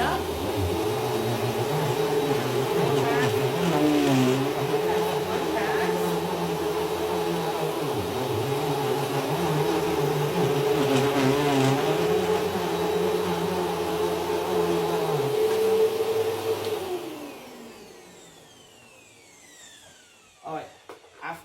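A Bissell PowerGroom Pet vacuum cleaner runs on carpet on its full setting with a steady, loud whining drone that shifts slightly in pitch, then powers down and stops near the end, leaving a few faint knocks.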